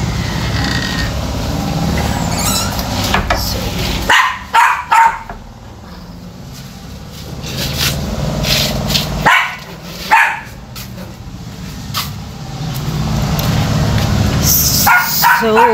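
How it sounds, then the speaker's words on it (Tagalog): A dog barks several times nearby in short bursts amid busy background noise, with a voice speaking at moments. "kasi nag-ingay yung aso ko"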